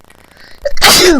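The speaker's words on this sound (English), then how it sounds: "Excuse me, sneezing there." A single sharp human sneeze, a short intake followed by a loud burst of breath close to the microphone.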